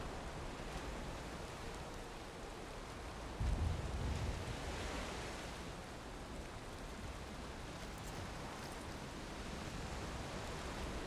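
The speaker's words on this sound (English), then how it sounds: "Now this is a dangerous storms." A storm at sea in Valheim, a quiet, even rush of wind and surf-like noise with one brief low thump of a wave or thunder early on, and no one talking.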